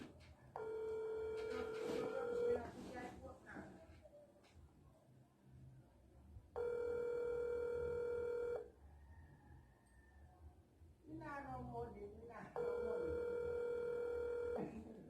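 A phone call placed on a mobile, with steady electronic ringback tones sounding in three long bursts separated by pauses, fairly loud and close, with brief faint voice and noise between the rings.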